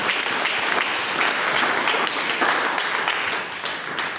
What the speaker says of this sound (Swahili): Ungempa angalau Yesu makofi mazuri